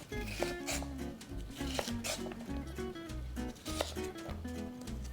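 A knife chops a radish into small cubes on a cutting board in a home kitchen, giving rapid, fairly loud, uneven knocking taps that run continuously with brief pauses.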